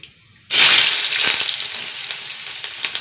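Sliced onions dropped into hot oil in a pan for a curry, a sudden loud sizzle that bursts in and then settles into a steady crackling fry with faint stirring clicks.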